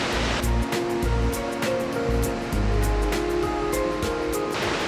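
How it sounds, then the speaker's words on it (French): Ocean waves break in steady succession, a loud, continuous roar of surf with repeated crashing swells close by and no voices. "ce qui me fait kiffer surtout c'est les vagues là"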